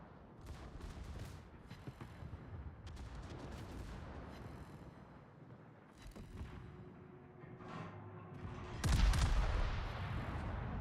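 Naval gun shells firing in World of Warships, heavy booming volleys with rumbling tails and a big blast near the end, no talk over it.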